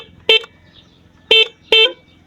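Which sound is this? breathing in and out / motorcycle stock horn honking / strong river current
motorcycle stock horn honking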